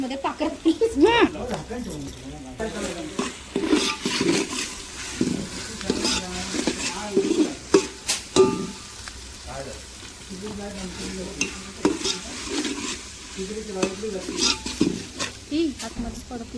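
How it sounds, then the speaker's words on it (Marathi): Masala spices roasting in a pan in a home kitchen, stirred with a spoon that scrapes and clinks against the metal over a steady close sizzle, while voices talk throughout. "चांगला मसाला भाजू दे"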